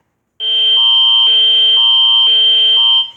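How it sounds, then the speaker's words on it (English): Canadian emergency alert system tone, a loud electronic alarm alternating between two pitches in a steady repeating pattern, starting abruptly and sounding alone. "The next alarm is Canada."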